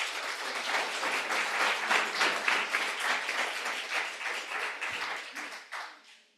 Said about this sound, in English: So a big round of applause to our panelists again.